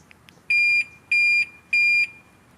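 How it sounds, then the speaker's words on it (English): Alarm on a 2008 BMW K1200LT motorcycle chirps three times, each a steady high electronic beep of about a third of a second, evenly spaced and close, with no talking. "That must be the alarm."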